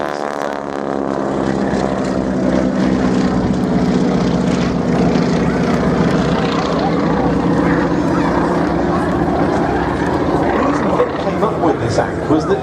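A Pratt & Whitney-engined Stearman biplane flies at an airshow, its radial engine and propeller droning loudly and steadily with a shifting pitch as it passes, under an announcer's commentary.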